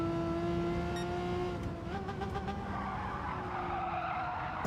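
A race car in Gran Turismo 7 slides across grass on slippery tyres during Gr.4 and Gr.3 lobby racing, with a loud steady engine drone and a brief skidding squeal, alone without talk.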